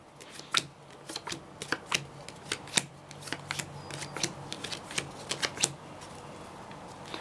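Cards dealt one by one onto a table for the Metacell: Genesis card game, seven to each player: a quick run of crisp, close flicks and slaps in an uneven rhythm, with no talking.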